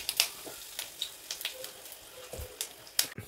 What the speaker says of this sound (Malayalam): കടുകൊന്ന് പൊട്ടിക്കഴിയുമ്പോൾ വറ്റലമുളക് ഇട്ട് കൊടുക്കാം.